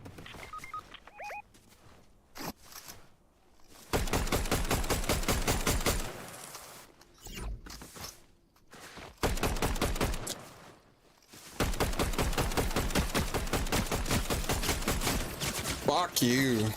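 Rapid bursts of automatic gunfire from the video game Fortnite sound in long, loud sustained volleys, with shorter shots and quiet gaps between them and a voice talking in places.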